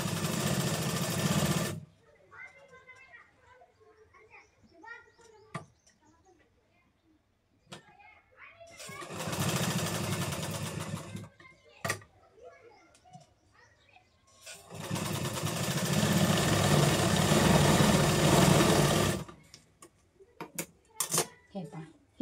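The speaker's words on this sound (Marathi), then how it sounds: "इथून स्टार्टिंग करणार आहे शिलाईला आणि त्याच्यानंतर आपल्याला हा टोक जो आहे तर हा टोक आपल्याला शिलाईमध्ये येऊ द्यायचा आहे" Sewing machine stitching a katori blouse, running in three long steady bursts with quiet pauses between them and someone speaking during the gaps.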